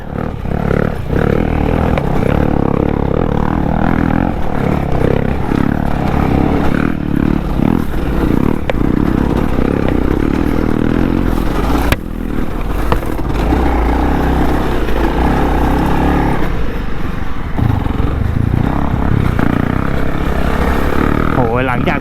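Honda CRF 300 L motorcycle on an enduro trail through forest and rocky mounds in Rayong, Thailand, its engine a continuous loud rough drone with revving surges, heavy wind buffeting and a rider talking over it.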